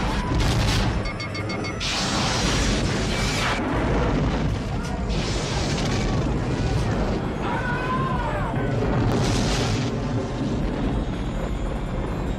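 Starship phaser fire and explosions in a space battle, a dense, loud barrage of booms, crashes and energy blasts that continues without pause, with voices speaking over the din.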